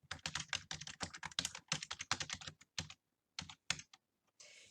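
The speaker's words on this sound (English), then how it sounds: "And then I'm going to type my name." Rapid keystrokes on a computer keyboard while typing a name into a basic word processing document, close and clear in irregular bursts with a few short pauses and isolated taps toward the end.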